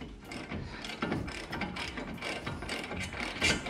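A ratchet tightens the brake caliper bolts on a 2004 Subaru WRX STI, giving close, rapid metallic clicking in short bursts as the handle swings back and forth.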